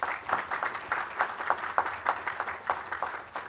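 Scattered audience clapping at a spiritual talk, individual claps standing out as uneven separate hits rather than a dense roar, moderately loud and steady, with no one speaking.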